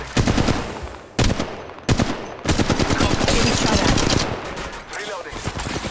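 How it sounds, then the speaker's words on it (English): Rapid automatic gunfire in the Apex Legends video game, loud and close, rattles in dense bursts with brief breaks, and a voice is heard amid the shooting. "Shots fired at me."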